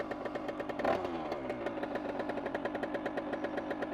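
An 80cc MHR moped engine runs steadily at a rapid, even two-stroke putter, close and loud, with a brief surge near the start and no talk.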